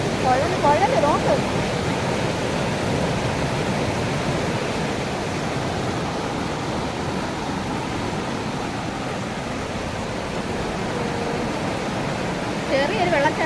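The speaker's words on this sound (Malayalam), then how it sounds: "ചെറിയൊരു വെള്ളച്ചാട്ടം നോക്കിക്ക്" Water from a small waterfall pours steadily beneath a culvert road bridge, a constant broadband rush that holds close and fairly loud for the whole stretch, with faint voices briefly at the start and end.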